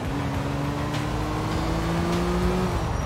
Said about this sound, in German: Dieser Motor, er klingt so schön.